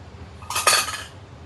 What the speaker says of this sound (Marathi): एकदा हलवून घेऊया आणि थोडस अगदी कोमट झालं म्हणजे